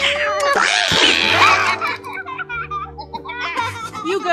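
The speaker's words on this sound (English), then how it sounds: "You girls, stop tormenting that poor little kitty." A kitten meows shrilly and repeatedly while girls tease it, the high cries mixing with girlish giggles and laughter nearby.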